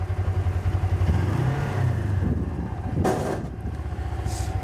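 Kubota RTV-XG850 Sidekick utility vehicle engine revved high, a steady loud mechanical drone that surges and rises, then settles back to a rumbling idle, with no voices.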